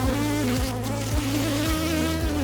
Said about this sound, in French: Tout ça, c'est des abeilles naissantes.